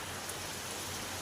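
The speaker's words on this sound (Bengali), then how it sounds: "হ্যাঁ, বৃষ্টি পড়তে লেগেছে" Rain falls steadily, a dense, even hiss of drops on outdoor surfaces filling a brief moment with no voices.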